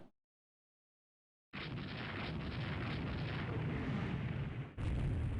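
A 14-inch naval shell strikes its target in Rule the Waves 3, a dense roaring explosion that bursts in after silence and rumbles steadily for a few seconds, ending in a second sharp boom.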